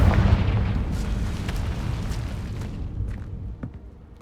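A Confringo explosive spell in Hogwarts Legacy bursts with a loud, close boom and a long rumbling roar that slowly fades over a few seconds, with faint crackles near the end.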